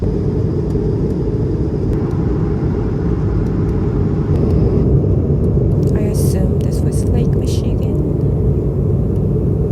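Steady, loud low rumble of a small aircraft cabin throughout, with a droning engine hum that fills the space.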